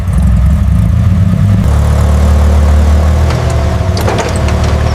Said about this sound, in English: The car moves under its own power.